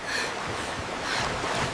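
Dark ocean waves under a dim moon, a steady surging wash of surf with a windy hiss, rising and falling softly with no talking.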